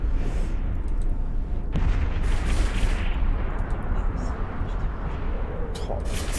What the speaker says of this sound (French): Wow, j'adore les explosions dans ce jeu,